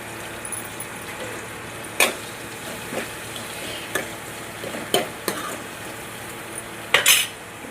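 Onions and green chillies frying in hot oil with mustard seeds, cumin and chana dal, a steady soft sizzle broken by a handful of sharp spatula scrapes and clinks against the pan, close and without speech.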